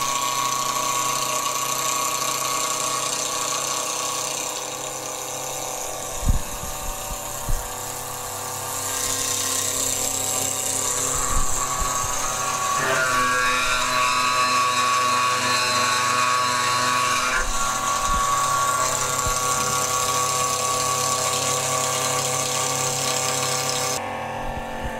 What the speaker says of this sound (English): We now need to cut the lens. So you turn the machine on first